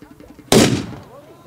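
A pirate cannon fires at a Renaissance fair, a single loud outdoor boom that rings out and decays over about half a second after a quiet lead-in.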